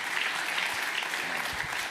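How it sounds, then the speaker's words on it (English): Sustained audience applause fills a Bitcoin policy summit hall, a dense, steady wash of clapping with no pauses and a faint voice underneath. "can we give David and everybody at BPI a round of applause for everything they have done?"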